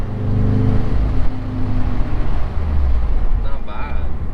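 A Toyota 86 engine fitted with new headers revs at partial throttle, a steady low droning exhaust tone that rises slightly and holds, close and fairly loud, with a deep rumble underneath.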